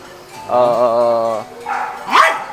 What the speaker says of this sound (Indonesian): masih suka gonggongin, nggak tahu entah apa yang dia lihat